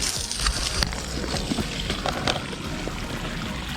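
A garden hose lets water run down onto dry dirt, a steady close splashing trickle with a few brief pattering bursts and no talking.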